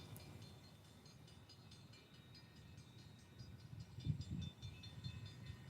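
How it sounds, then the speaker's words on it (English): A train passing on tracks beside a street, a low steady rumble with faint rhythmic clacking that swells toward the end, heard from close by without any talking. "That's the train."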